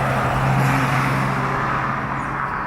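Loud, continuous street traffic with scooters and mopeds passing nearby, a dense steady engine drone with a low hum and broadband road noise, close and unbroken throughout.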